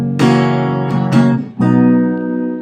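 Acoustic guitar strummed in root-position chords for a song: three ringing strums, each left to sustain and decay before the next, played alone and close.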